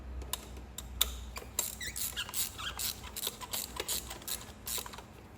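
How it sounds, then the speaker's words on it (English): A ratchet tightening the ignition coil bolts on an Audi A3/A4/A5 engine: a quiet, rapid series of clicks in short, uneven strokes, close up, with no talk. "Now with the ratchet,"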